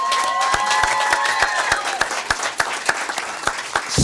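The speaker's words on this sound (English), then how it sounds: "So big round of applause to Maines." Applause from a school staff fan club at a district board meeting: dense, sustained clapping from a crowd with scattered sharper claps standing out, steady throughout and fairly close.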